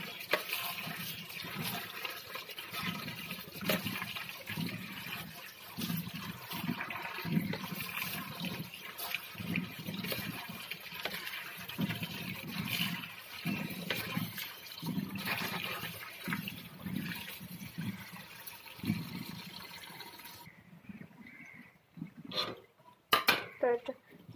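Pumpkin leaves being washed and squeezed by hand in a pot of water in a kitchen, a long run of sloshing, splashing and clinking that stops near the end, followed by a few isolated knocks.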